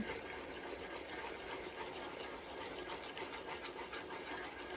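Chana korma being stirred in a pot: a steady, close scraping and swishing with no clear pauses, fairly quiet and without speech.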